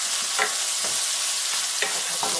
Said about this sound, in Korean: 다시 볶아주세요.